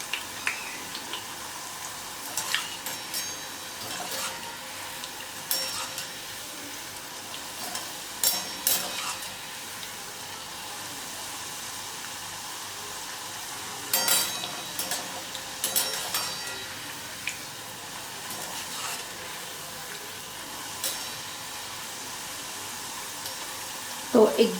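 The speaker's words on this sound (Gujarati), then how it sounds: "તો એકદમ લાઇટ ઓફ વ્હાઈટ અને લાઇટ ક્રીમની થાય ત્યાં સુધી આપણે તળવાની રહેશે વેફર." Banana wafers frying in hot oil, a soft steady sizzle with occasional louder stirring clatters and bubbling bursts, fairly quiet in a home kitchen.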